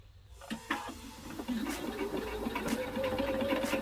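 A sewing machine stitches across a thick band on a hooded towel, starting with a few hesitant needle strokes before running into a close, steady rapid whir.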